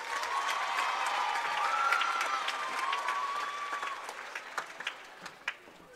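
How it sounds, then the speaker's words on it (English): Applause and cheering from a high school basketball gym crowd honoring a senior cheerleader, a steady distant wash of clapping that thins out toward the end into a few scattered claps. "Let's have a round of applause for Taylor Muncy."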